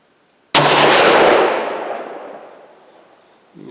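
A single loud rifle shot fired at a target with a handload of 42.2 grains of Ramshot TAC powder, a sharp crack that rings out and decays over about two seconds outdoors, with no talk.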